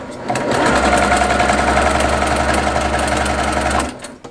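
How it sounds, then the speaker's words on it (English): A sewing machine runs steadily at close range, stitching quilt strips along the diagonal with a continuous rapid mechanical hum and rattle for nearly four seconds before stopping. "I sew from here to here on the diagonal"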